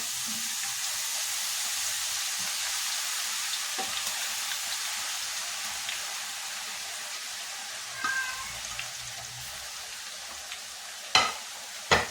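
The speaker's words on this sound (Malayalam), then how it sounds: "നമ്മുടെ പെണ്ണയൊക്കെ നന്നായിട്ട് ചൂടായിട്ടുണ്ട് അപ്പോൾ നമുക്ക് ഈ അരപ്പ് അതിലോട്ട് ഇട്ട് കൊടുക്കാം" Herbal paste for a hair-growth oil hits hot oil in a pan and fries with a steady, soft sizzle and bubbling, with a few sharper spatters and clinks of stirring toward the end.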